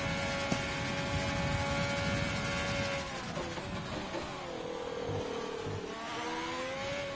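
A Haas Ferrari Formula 1 car in a racing video game whines at high revs, its engine note shifting as it eases off under braking and then builds again, steady and close with no talking.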